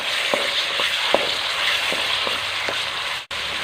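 Boneless chicken frying with ginger garlic paste in a pan over medium heat: a continuous close sizzle broken by a regular series of sharp spatula scrapes and taps, ending in a sudden brief dropout.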